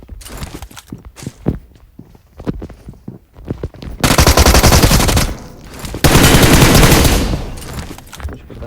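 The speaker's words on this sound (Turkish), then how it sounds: "M4 vurdum." Bursts of M4 rifle fire from the mobile battle-royale game PUBG Mobile: scattered single shots and short volleys, then two long, loud sustained automatic bursts close up, with a brief gap between them.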